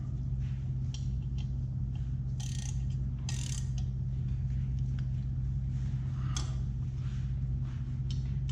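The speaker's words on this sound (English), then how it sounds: "like to use a ratcheting wrench, it makes this job a lot easier" A ratcheting wrench tightens the bolts on a pump during a rebuild and seal replacement. Short bursts of clicking ratchet over a steady low mechanical hum.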